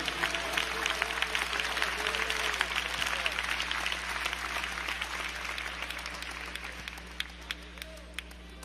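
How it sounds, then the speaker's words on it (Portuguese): A church congregation claps enthusiastically, dense sustained applause that gradually thins toward the end, with a low hum underneath. "dar uma salva de palmas bem forte, bem alegre"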